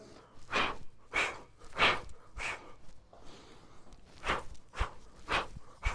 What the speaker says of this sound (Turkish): tek bir derin nefes aldım. Dörde böldüm.